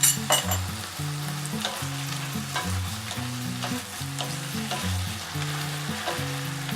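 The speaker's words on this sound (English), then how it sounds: "Add the cornstarch and stir for 15 seconds." Chinese cabbage stir-fried with diluted cornstarch gives a loud, steady sizzle under quick, regular spatula strokes scraping the pan, close and with no voices.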